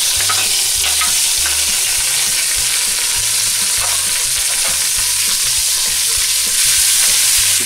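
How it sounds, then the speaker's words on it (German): Lamb bones sear hard in hot rapeseed oil in a pan, giving a loud, dense, continuous sizzle up close with faint clatter as they are moved. "Geben Rapsöl dazu. Und braten jetzt unsere Knochen richtig scharf an."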